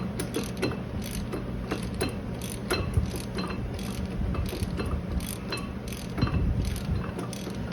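A wheel hub spins on a 2003 Pontiac Grand Am during brake work, giving a continuous, rapid ratcheting mechanical clatter with a steady whirring hum, close and loud throughout.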